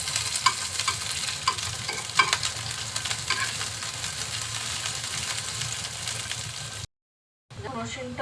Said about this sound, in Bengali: ঝালটা যখন একটু ভাজা ভাজা হবে দিয়ে দিচ্ছি পেঁয়াজ কুচি আর রসুন কুচি।